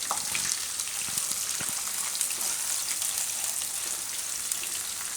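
Onions sizzling steadily in hot oil in a Gujarati home kitchen while pasta fried rice is being made, a dense continuous frying hiss with no talk.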